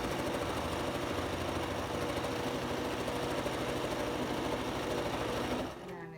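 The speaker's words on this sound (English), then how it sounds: "I'm going to start sewing, and so it's just going to be a little loud" Steady, fast mechanical whir and rapid needle chatter of a sewing machine stitching fabric, loud and close, running continuously before stopping abruptly near the end.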